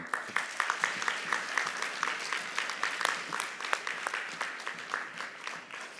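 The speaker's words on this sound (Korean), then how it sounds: "와우, 박수 한번." A church congregation claps for a class of fifty-one graduates during a Sunday service. The applause is lively and uneven, with sharp individual claps standing out across the crowd throughout.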